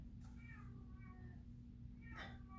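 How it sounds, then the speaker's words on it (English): A house cat meows several times, a couple of drawn-out calls and then a sharper louder one, heard indoors over a steady low hum with no talking. "I'm sorry that you can hear the cat."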